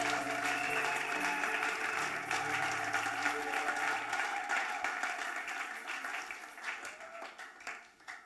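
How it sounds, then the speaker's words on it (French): A church congregation at a Sunday service claps and cheers for the Lord in sustained, dense applause that slowly fades toward the end. "Est-ce qu'on peut continuer à acclamer et acclamer?"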